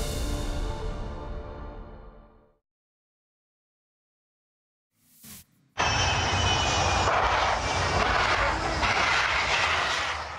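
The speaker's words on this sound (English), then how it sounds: "Dramatic video has emerged of this FedEx plane skipping across the tarmac of a Tennessee airport" A FedEx cargo plane skidding across a Tennessee airport tarmac on faulty landing gear: a loud, broad roar of the aircraft, then a silent gap, then a brief crackle before the heavy roar returns and holds steady.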